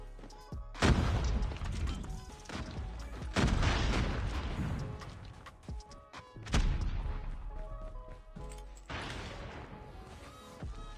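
Several heavy blasts in Call of Duty Mobile, including a grenade explosion, boom loudly one after another at spaced intervals, each with a sharp crack and a rumbling decay.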